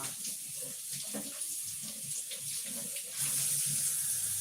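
Cheesecloth stained orange with turmeric rinsed under a running kitchen faucet, a steady close splashing stream that grows louder and fuller near the end.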